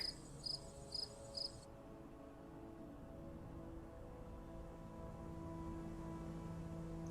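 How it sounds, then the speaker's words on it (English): Crickets chirp in an Unreal Engine game night scene: four quick, bright chirps in a row at the start, then a low steady ambient hum carries on alone. "I heard the cricket."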